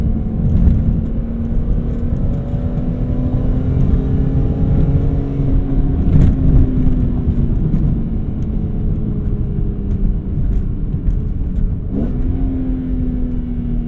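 Cabin-view engine note from a BMW E46 M3 with SMG gearbox, a steady loud drone whose pitch sweeps up and down through a downshift blip, with a sharp rev flare near the end.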